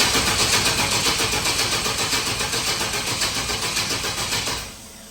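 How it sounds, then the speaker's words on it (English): A Chevrolet S10 engine being cranked over by the starter to build oil pressure, a rhythmic pulsing churn held for about four and a half seconds before it stops, close and loud without firing. "I always crank it over until it gets oil pressure before I start it"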